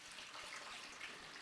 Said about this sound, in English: I then pour my water and vinegar into the spray bottle through my funnel.